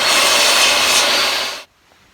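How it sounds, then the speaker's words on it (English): A table saw rips through plywood in one steady, loud, bright whine that holds for over a second and a half, then cuts off abruptly into near silence. "I'm just going to run it through the table saw and even everything up"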